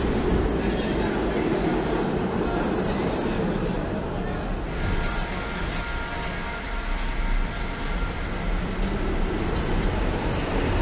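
A Budapest Metro Line 1 subway train rumbles and rattles steadily at close range, with a high squeal of wheels or brakes rising briefly over the din, and people talking underneath.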